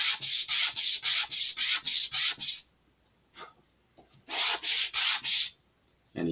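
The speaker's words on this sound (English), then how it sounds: "This is the part that we absolutely need to sand, because this is the root." Sandpaper rubbed against the wooden root edge of an Estes Loadstar II model rocket fin, heard close in quick rhythmic back-and-forth strokes: a steady run of about ten scrapes, a short pause with faint touches, then a few more strokes.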